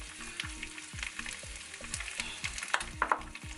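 Salmon and eggs frying in hot oil in a pan, a steady close sizzle with repeated spitting pops and crackles that grow sharper toward the end.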